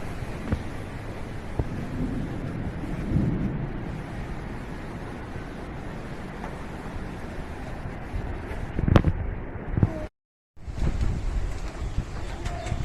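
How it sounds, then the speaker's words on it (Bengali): Steady roaring wind of a storm buffets the microphone throughout, with occasional gusts and rumbles, loud and continuous, as darkness falls. "সব উতাল ফাতাল হয়ে যেতেছে বাতাসে"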